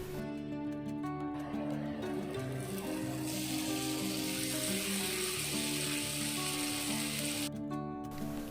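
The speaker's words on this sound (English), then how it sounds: "grill the tikkas on medium to high heat and keep turning in between" Paneer tikka skewers sizzle steadily in a pan with a tablespoon of hot oil over medium to high heat, a continuous close frying hiss that runs throughout without any talk.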